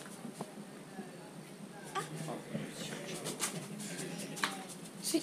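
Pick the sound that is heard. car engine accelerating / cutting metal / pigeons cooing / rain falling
pigeons cooing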